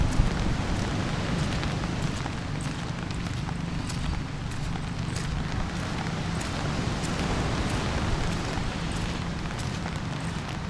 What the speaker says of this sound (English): the rain's getting worse and worse